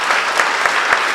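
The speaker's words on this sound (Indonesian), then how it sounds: "Yang setuju beri tepuk tangan dulu untuk Tuhan kita." Church congregation clapping during a Sunday worship service in Batam, a loud, full wash of applause with a faint regular beat as many hands fall into rhythm, filling the whole brief moment.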